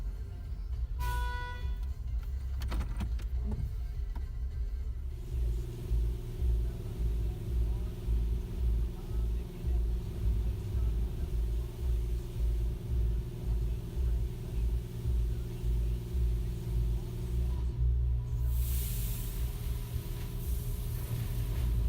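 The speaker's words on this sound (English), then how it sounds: "We're experiencing the car wash." A steady mechanical rumble and whirring of an automatic car wash in Kingston, Canada, with rhythmic pulsing and occasional spraying hiss throughout.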